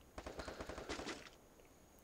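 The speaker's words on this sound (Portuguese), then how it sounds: "tô ouvindo tiro aqui pra cima" Rapid bursts of automatic gunfire in the Free Fire battle royale game crackle quickly and faintly, about a dozen shots in a fast rhythm over a little more than a second, then fading to quiet.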